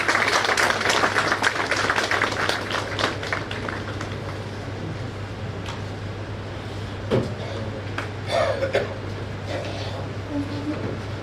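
Loud applause from a seated audience welcoming committee members at a Bar Council enrolment meeting, dense clapping at first and then thinning into scattered claps over a low steady hum.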